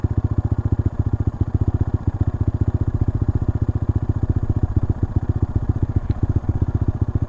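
A Honda Monkey motorcycle idles close by, its small single-cylinder engine thumping in a fast, even, steady rhythm throughout with no talking.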